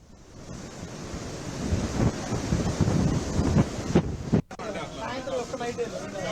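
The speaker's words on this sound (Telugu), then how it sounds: "కాకినాడ బీచ్ రోడ్డులో అలల తాకిడికి రోడ్డుపైకి వస్తున్నాయి" Cyclone Montha surf pounds the beach road at Kakinada, a loud, continuous roar of crashing waves blown by strong gusty wind, with wind buffeting the microphone throughout and a brief dropout near the end.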